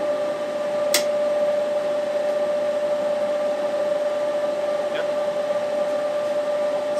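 An old clothes dryer motor, loose and unbolted in a converted garage heater, hums steadily with a constant tonal whine and airy rush, with a sharp tick near the start.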